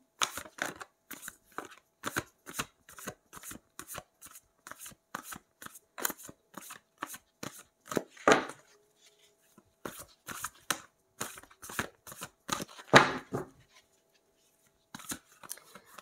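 Tarot cards being shuffled in a steady run of crisp riffling bursts, with a couple of louder flurries and short pauses between; no talk.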